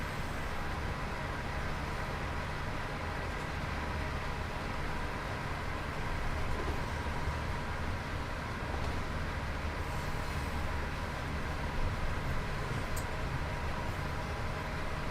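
A Class 87 electric locomotive runs along the West Coast Main Line between Preston and Carlisle, producing a steady, even rumble and hiss heard from on board, constant throughout with no voices.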